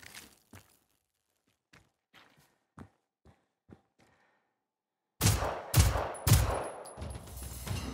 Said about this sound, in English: Oh, I'm shooting in a sandbag